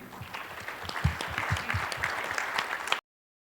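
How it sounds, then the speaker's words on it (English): A forum audience applauds its panelists, steady mid-distance clapping with a few louder individual claps, continuing for three seconds before cutting off abruptly. "Let's give them a warm applause"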